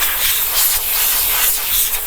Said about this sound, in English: I'll actually grab myself some compressed air and I will blow this off